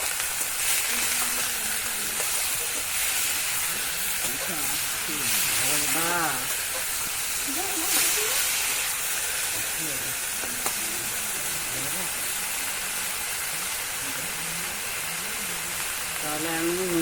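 Black cumin and two dried chillies sizzle steadily in hot oil in a village kitchen, a constant close hiss and crackle running under a person talking.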